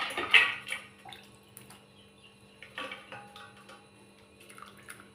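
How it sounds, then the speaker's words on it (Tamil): Water splashes and trickles as chopped banana flower is rinsed and squeezed in a bowl, with a few brief wet sloshes and drips, close and fairly quiet, no talking. "இப்போ தண்ணி எல்லாம் நல்லா அலசிட்டு இந்த மாதிரி புழிஞ்சு நம்ம மிக்சிங் பவுலில் சேர்த்திக்கலாங்க"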